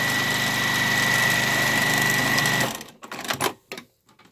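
A sewing machine runs steadily with a fast, even whir while stitching a French seam on a hooded towel, then stops and gives way to a few soft handling clicks and rustles.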